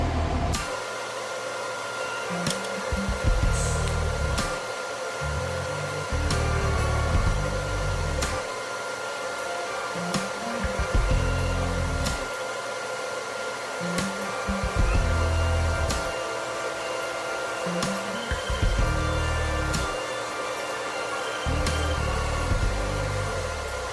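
TIG welding torch running in a weld shop, a steady hiss and electrical buzz in repeated bursts of several seconds separated by short pauses, fairly loud and without talk.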